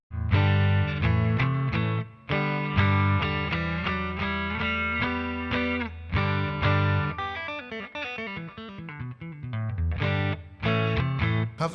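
Electric guitar, a Strat, playing chords and single-note runs with a spacious reverb tail from a tube amp expander and slight grit, loud and close, with brief pauses between phrases.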